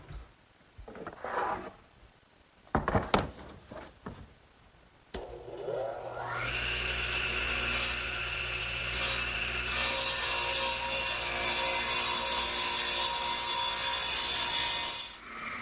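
A radial arm saw cuts wood for a pencil post bed: scattered knocks and handling come first, then the motor spins up with a rising whine and settles into a loud, sustained cutting roar close by.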